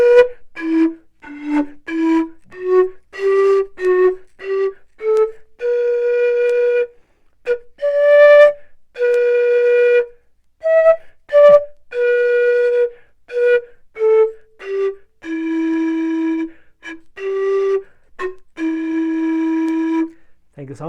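Andean zampoña panpipes sound a higher-pitched passage of breathy, whistle-like notes, some short and clipped, others sustained, played solo and near with brief gaps between phrases.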